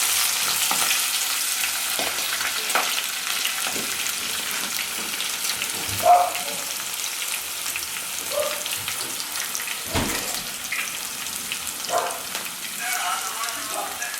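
Cloves, bay leaf and whole spices fry in hot oil for biryani, a crackling sizzle with spoon stirring scrapes and occasional clinks, while a voice talks over it now and then.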